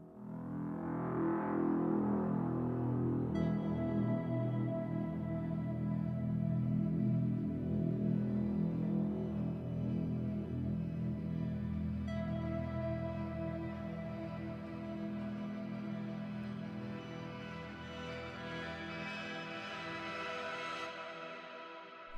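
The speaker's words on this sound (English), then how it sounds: "synth stuff all sounds like this" Dense layered synthesizer tones swell and sustain for a long stretch, a thick droning pad with shimmering upper harmonics and no voices.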